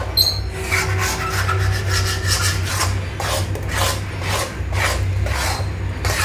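Semolina (rava) for sooji barfi is stirred in a pan over a low gas flame. A close, continuous rasping scrape repeats in even strokes.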